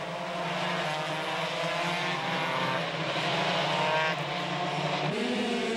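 Racing engines of 125cc motorcycles howl continuously at Lédenon circuit, a dense pack of high-revving two-strokes screaming together, loud and steady with pitch shifts as bikes brake and accelerate through a corner.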